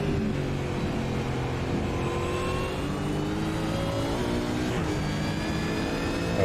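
A V8 Supercar roars around Bathurst in a sim racing game, its engine wailing steadily and loud with rising and falling gear pitches throughout, no voices over it.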